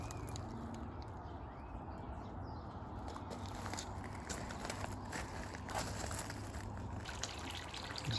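Water draining out of a koi pond during a pond build, a steady low trickling and gurgling wash heard close and continuous, with faint outdoor background and occasional small splashes.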